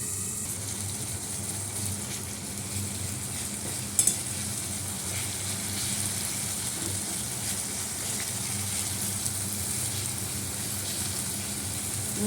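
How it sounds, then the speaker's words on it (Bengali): Fish frying in a pan under a lid makes a steady, even sizzle that lasts throughout, broken once by a single sharp knock. "মাছটা ভালো করে ভাজা ভাজা হবে"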